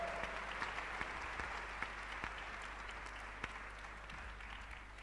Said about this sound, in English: please welcome her with a warm round of applause.